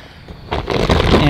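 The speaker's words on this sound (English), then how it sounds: "I'll lift the tarp up" A tarp is lifted off a shelter housing bonsai trees, giving a quiet rustle that swells into a loud, crinkly plastic scrape and flutter for about a second.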